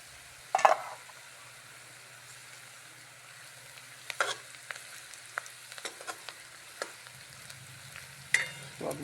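Onion and chili tempering (vaghar) for a Gujarati chana curry sizzling in a pan as tomatoes go in, with a faint steady sizzle broken by a few sharp stirring clatters and scrapes, no talk.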